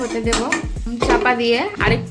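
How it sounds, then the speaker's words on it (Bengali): Metal clanks and rattles from a cooking pan and its lid on the stove while making Bengali note shak bhaja (fried amaranth greens), several sharp close knocks in quick succession. "আমি এটা চাপা দিয়ে আরেকটু"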